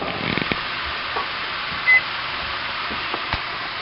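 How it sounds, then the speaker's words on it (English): Stuffed mushrooms sauté in a pan over high flame, giving a soft, steady sizzling hiss with a brief electronic beep partway through. "see how you hear that sizzle?"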